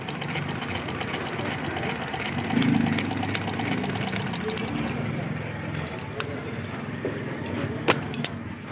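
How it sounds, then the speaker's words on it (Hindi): A sewing machine runs and stitches with a steady mechanical whirr and rapid rhythmic ticking, close by, while someone talks over it throughout. "अब मैं आपको ये चला कर दिखाता हूँ कि ये किस तरीके से सिलाई करती है"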